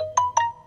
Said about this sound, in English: Oh, excuse me a second, that's just my phone.